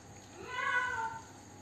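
A child imitates a cat's meow with a single drawn-out, rising-then-falling vocal cry lasting about a second, close and moderately loud in a quiet indoor room.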